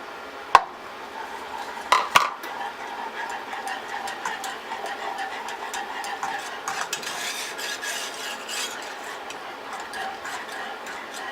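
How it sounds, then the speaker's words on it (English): A spoon stirs xylitol and Trader Joe's coconut powder in a pot for keto coconut pecan chocolate candy: sharp clinks against the pot at the start, then continuous close scraping and light ticking that stays moderately loud throughout. "Give that a good stir."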